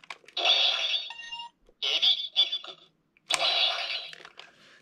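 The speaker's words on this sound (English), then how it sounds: "that noise you just heard, belongs to the Ebby disc" An electronic Inromaru toy from Samurai Sentai Shinkenger plays its sound for the Ebi lobster disc: three bright, bursty electronic chimes and jingles with short pauses between, fairly loud and close with no talk.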